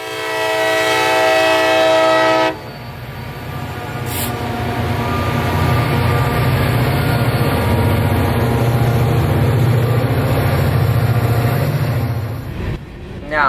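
Two freight locomotives labor hard to get a train moving, a loud sustained diesel roar and rumble opening with a brief horn blast.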